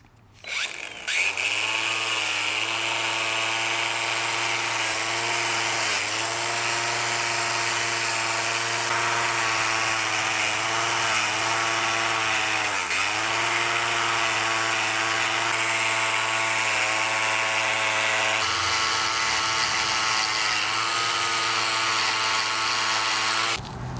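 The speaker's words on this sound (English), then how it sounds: "So the reason she's wire brushing those is these are actually cast iron." A powered wire brush scours cast iron engine parts from a 1953 Cummins engine rebuild, a loud, continuous whirring grind that dips briefly in pitch several times as the brush bears down, with no talk.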